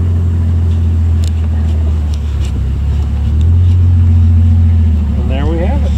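A convertible car cruises along carrying a Bluetick Coonhound and a Chocolate Lab, its engine giving a loud steady drone with wind rush that swells midway. A voice joins near the end.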